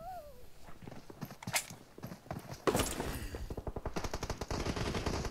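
Gunfire in the video game PUBG, rapid bursts of automatic shots and single cracks at close range, growing denser toward the end, with a brief voice at the start.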